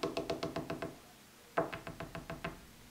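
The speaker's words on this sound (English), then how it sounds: "Have you ever heard a woodpecker? Sounds like this." Rapid bursts of woodpecker pecking on wood in a forest, two quick drumming runs of about six or seven sharp knocks each, separated by a short pause, fairly close and clear with no talk.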